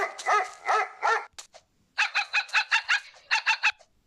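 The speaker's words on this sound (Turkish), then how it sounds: "Köpek." A dog in a video game barks in quick rhythmic bursts, a cluster of yaps, a brief pause, then a longer run of rapid barks, close and fairly loud.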